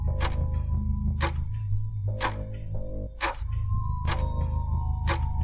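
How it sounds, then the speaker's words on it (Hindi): Wall clock ticking in a quiet house late at night, about one sharp tick per second in an even rhythm, set over a low, sustained tonal drone. "घड़ी की आवाज़"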